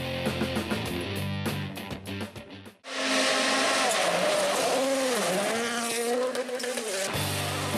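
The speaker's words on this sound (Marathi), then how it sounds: "पाहूयात श्रीलंकेतल्या रिक्षा रेसिंगचा हा थरार" Auto rickshaws racing in Sri Lanka, with loud, continuous engine roar and revving that rises and dips as the vehicles pass close by, preceded by a few seconds of choppier mechanical noise.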